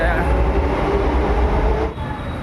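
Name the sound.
metro train at a metro station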